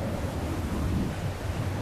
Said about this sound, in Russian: Чё за ветер?